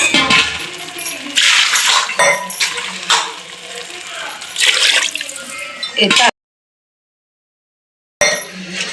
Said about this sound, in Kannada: ಈಗ ಎಷ್ಟು ಬೇಕಷ್ಟು ನೀರು ಹಾಕೋದು.